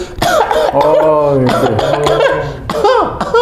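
A few coughs break out among voiced sounds and laughter, close and loud, with a throaty, clearing quality.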